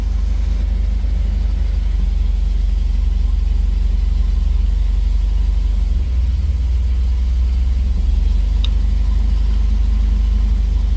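An old car engine runs steadily with the clutch engaged and the wheels turning, a low, continuous rumble that stays close and loud throughout, with no talk over it.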